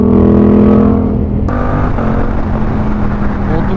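A Yamaha R7 sport motorcycle, an A2-licence model, roars with a loud, steady engine drone close by. The engine eases off slightly after the first second and then holds an even tone, with no voices.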